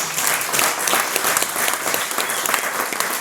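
Steady audience applause for Brenda Kali after her conscious-companies talk, thick continuous clapping at full strength from start to finish with no voices rising above it.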